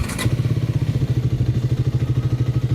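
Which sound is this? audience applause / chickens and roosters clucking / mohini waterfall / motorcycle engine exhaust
motorcycle engine exhaust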